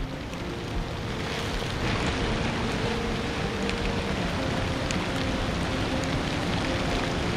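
Steady rain falls during a climb up the steep rock-cut steps of Harihar Fort, a dense even hiss, with no speech.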